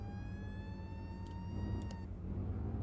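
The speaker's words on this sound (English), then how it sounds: "Turn those sirens off." A wailing fire truck siren in the game Flashing Lights with a steady engine rumble beneath it, the siren fading out partway through while the low motor drone continues.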